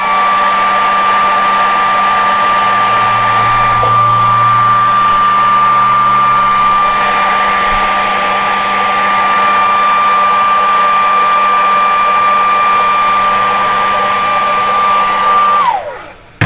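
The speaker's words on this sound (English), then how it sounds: "just hit that real quick with the hair dryer" A hair dryer, used on a rusting project, blows steadily and loudly with a high whine for about fifteen seconds, then switches off and winds down.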